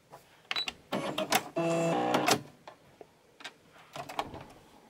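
A sewing machine runs a short test stitch after its bobbin casing is replaced, giving quick irregular clicks and taps with a loud steady whirring burst in the middle, close and alone.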